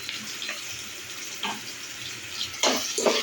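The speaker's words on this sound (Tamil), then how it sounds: "உப்பு சேர்த்து நல்லா கிளறி விட்டுக்கோங்க வெங்காயம் நான் வெங்காயம் நல்லா ப்ரௌன் கலரில் வதங்குற வரைக்கும் வெயிட் பண்ணுவோம்" Onions fry with salt in a pan for chicken curry, making a soft, constant hiss with a few louder crackling bursts as they are stirred.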